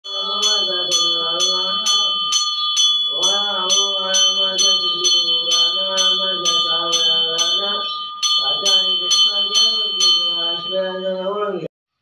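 Bells ring steadily in rapid, even strikes at the ancient Bhavani Mata temple in Vanoja near Wani, Vidarbha, their sustained tones sounding beneath a voice that chants or sings throughout.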